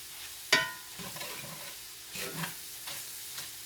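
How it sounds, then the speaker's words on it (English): Flour stirred into a potato hamburger casserole mixture: a sharp clank of a utensil on the pan, then soft scraping strokes over a faint sizzle, close and fairly quiet. "Put the flour in, then we're gonna stir it,"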